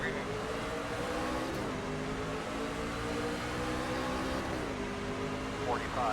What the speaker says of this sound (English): I can hear that 14 in first gear